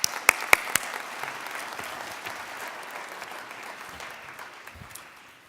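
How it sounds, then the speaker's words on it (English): An audience at a New Futures graduation ceremony applauds the graduates, a few sharp nearby claps at the start swelling into steady, moderately loud clapping that slowly thins out toward the end. "So I think they deserve a round of applause."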